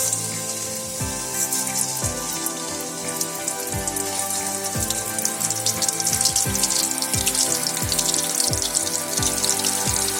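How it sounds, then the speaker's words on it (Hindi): Egg and beef koftas fry in hot oil over a medium flame, giving a dense, steady sizzle and spatter that builds slightly in intensity, with no voices over it. "ऑयल गरम हो चुका है और अब हम इसमें इस तरह से बिल्कुल एहतियात के साथ कोफ्ते ऐड करेंगे"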